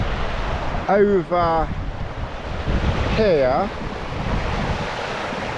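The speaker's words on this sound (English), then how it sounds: "Now, this is the river here" A river flows beside a flooded tent pitch at a campsite, giving a constant rushing wash with wind buffeting the microphone, while someone speaks briefly twice over it.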